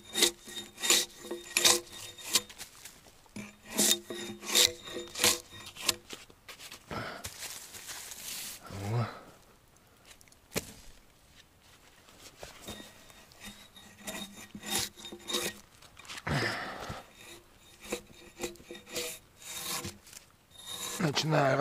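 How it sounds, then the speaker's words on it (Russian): Steady rasping strokes of sandpaper on a wooden log, coming in rhythmic bursts separated by short pauses, close by. "я сейчас дошкуриваю бревно, попробую его все-таки вкопать"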